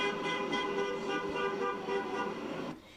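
A steady car horn blares almost without break through New York City traffic, loud and close, then cuts off just before the end.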